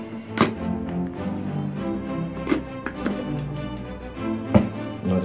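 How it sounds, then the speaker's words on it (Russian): Knife chopping bell peppers on a cutting board, several sharp isolated knocks spaced a couple of seconds apart over a steady background, close and moderately loud. "Нарезаем перец."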